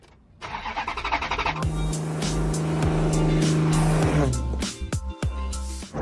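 An abandoned, neglected Maserati cranks and fires up, its engine catching with a sharp rev and settling into a loud, rough, uneven idle and throttle blips close to the microphone, with the engine note dipping and stuttering near the end.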